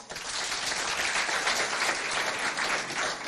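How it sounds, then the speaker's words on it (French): Audience at a Chadian high school quiz event applauds in a dense, even burst of clapping, moderately loud and continuous throughout. "on applaudit ce moment"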